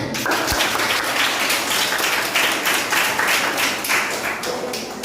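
Steady applause from a crowd at a class 4 school quiz competition, continuous clapping filling the whole stretch at an even, moderately loud level.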